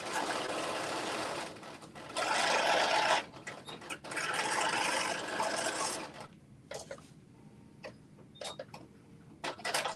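Home sewing machine stitching a 3/8 inch seam allowance while setting sleeves into a garment, with rasping mechanical bursts of running stitches that start and stop, followed by quieter clicks and short taps nearby.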